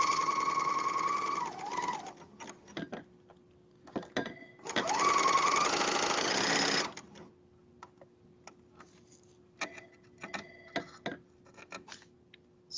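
A serger sewing pajama fabric runs in two steady buzzing bursts, close and loud, followed by scattered light clicks and taps of handling with a faint steady hum beneath.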